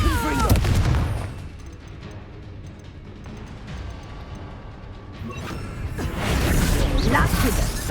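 Spells cast in a magic-themed video game give off heavy booms, crackling blasts and mechanical rumbles, loud and close, with a voice calling out over them.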